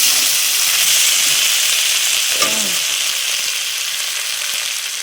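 Spicy mutton curry sizzling loudly in a pot in a village kitchen, a steady close hiss of frying that carries throughout, with a brief scrape of stirring midway.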